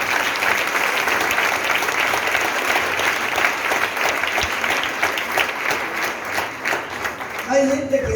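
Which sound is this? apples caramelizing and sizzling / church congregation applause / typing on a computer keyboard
church congregation applause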